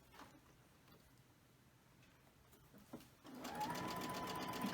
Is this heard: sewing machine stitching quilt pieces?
yes